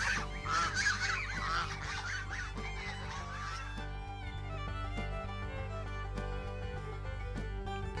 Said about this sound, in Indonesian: ini ada angsa warna